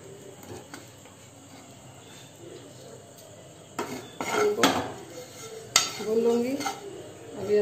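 A utensil scrapes and clinks against a pan in bursts, stirring dry roasting spices, with a faint steady hiss underneath.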